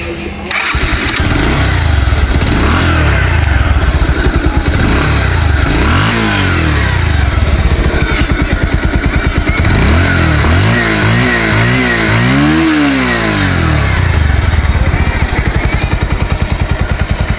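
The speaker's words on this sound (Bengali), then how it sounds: "এখন হচ্ছে এই গাড়িটা স্টার্ট করে সাউন্ড কন্ডিশন দেখাবো" A 2024 Bajaj Pulsar 150cc ABS motorcycle starts and keeps running, its loud close engine putting out a steady thumping idle with several rising and falling revs partway through.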